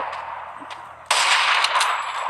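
A single video game gunshot bursts in loudly after a faint quiet stretch, followed by a sustained harsh roar and echoing tail.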